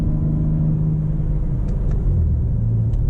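A 2023 BMW M4 Competition Convertible cruising in sixth gear on a night drive, heard as a steady, loud low rumble of engine and road noise with no talking.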